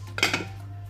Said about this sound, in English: so pop a lid on and let it boil.